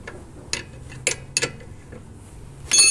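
Ratchet with a 14 mm socket tightening a brake caliper bolt on a Chrysler 200 during rear brake pad replacement: a few short, sharp metallic clicks spaced apart, then a brief burst at the end.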